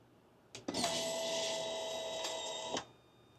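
A Quantum fuel pump in a Harley-Davidson Pan America primes at key-on, a faint, steady electric whine lasting about two seconds between a soft click at each end.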